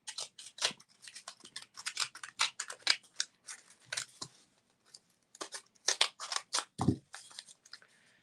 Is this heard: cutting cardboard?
yes